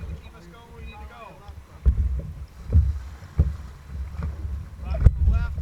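A canoe paddling down the Allagash River, with rhythmic paddle strokes and water splashes close by under wind buffeting the microphone, as people talk on board.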